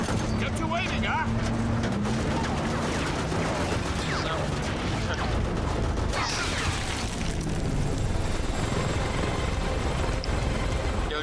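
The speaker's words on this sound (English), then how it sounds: "shoot down the chopper" Helicopter in Metal Gear Rising: Revengeance, a loud continuous rotor drone filling the whole stretch, mixed with gunfire bursts and mechanical clatter while voices talk over it.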